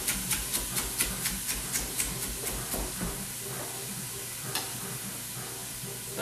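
Onions sizzle steadily in a pot on the stove for corn chowder while a utensil stirs them, with rhythmic scraping taps early on over continuous close frying hiss.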